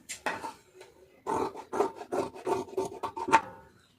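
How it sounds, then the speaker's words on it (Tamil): Scissors snip through blouse lining fabric to cut a sleeve, giving a close run of short rasping crunches in quick uneven bursts, with no talking over them. "இப்போ கை ஸ்லீவை கட் பண்ணிடலாம்"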